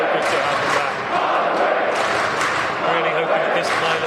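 A rugby crowd at the Stoop, home of Harlequins, during a match against Bath makes a dense, steady roar of voices and cheering that fills the space, with sharper shouts rising now and then.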